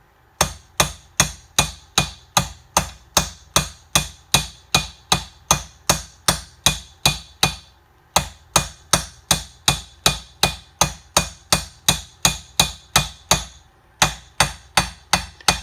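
A hammer taps a part on an OMC 9.9-15 outboard motor to seat it, striking in a steady rhythm of about two blows per second. Each ringing metallic tap is close and clear, with one brief pause partway through and no talking.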